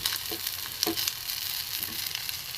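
Egg filling for a snack sautés in a pan with a steady, close sizzle, with a few soft stirring scrapes and no talking.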